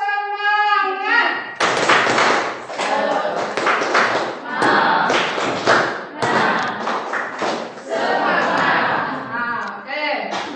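A school class performs the rhythmic 'tepuk semangat' clapping chant, loud close group claps and thumps in patterned bursts mixed with children's chanting voices, after a brief tonal sound at the start.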